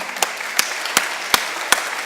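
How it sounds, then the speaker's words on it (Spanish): Applause from the audience at an education and economic development congress, a steady crowd clapping with five sharp, evenly spaced louder claps standing out against it. "Apláudanlo."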